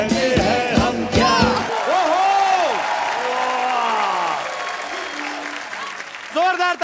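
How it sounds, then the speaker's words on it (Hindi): Loud applause and cheering from a television comedy show studio audience, briefly mixed with music and voices near the start, then a sustained dense wash of clapping with whoops rising over it. "जोरदार तालियां यामी"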